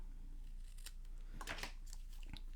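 Scissors cut paper for a handmade card in a few faint, crisp snips with short pauses between them, set against a quiet, steady background.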